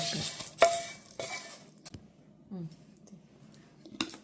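A spoon stirs curry leaves in a pan for Andhra-style curry leaf pickle, with several sharp scraping clicks and soft sizzling between them, close and fairly quiet.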